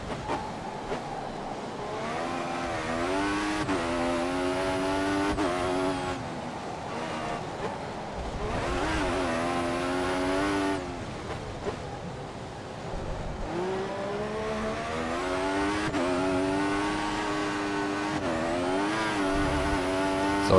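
Williams Formula 1 car engine in the F1 2014 racing game, a loud continuous whine that rises and falls through gear changes and revs, with music-like tonal layers underneath.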